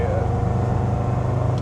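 Td5 turbo diesel engine with a GTB450 turbo pulling hard in 4th gear at full throttle from 30 mph, a steady loud low drone that stays constant through the short stretch, with a voice talking over it.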